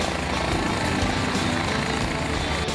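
An air rescue helicopter at an emergency responders appreciation event in Vidor, Texas, gives a loud, steady broadband whir and rotor chop filling the whole short stretch, with no clear talk over it.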